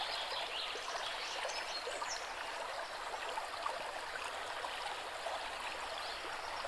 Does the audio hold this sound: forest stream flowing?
yes